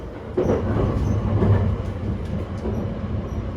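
Steady low rumble and rolling rail noise heard from inside the moving Sunrise Izumo overnight sleeper train in Japan, continuous and fairly loud with faint clicks over the track.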